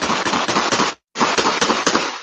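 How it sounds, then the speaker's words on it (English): Gunfire captured by outdoor surveillance cameras in a Southwest Miami-Dade neighborhood as a man shoots at a parked white car: a loud, rapid burst of sharp cracking shots, a brief silent gap, then another dense volley. "Surveillance cameras capturing the sound of gunfire as a man in a red shirt appears to shoot at a white car"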